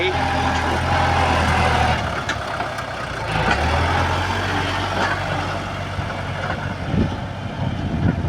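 Kubota L5018 tractor engine running while building up rice paddy bunds, a steady low diesel rumble throughout with varying load, heard close and fairly loud, with faint background voices.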